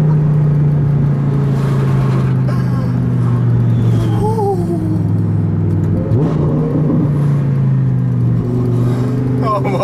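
A Lamborghini supercar with an Armytrix exhaust accelerates in sport mode, its loud, close engine droning steadily with rising revs and shift changes, while someone talks over it.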